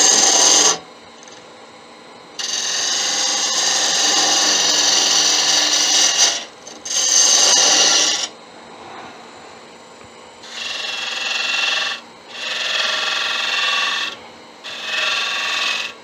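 A detail gouge cuts wood on a lathe for a pizza cutter kit, producing a close, loud scraping hiss in several bursts separated by brief pauses.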